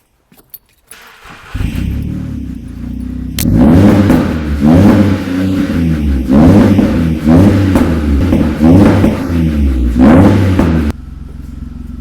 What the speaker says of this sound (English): it actually sounds pretty sick, and we got a couple of little pops and bangs as well.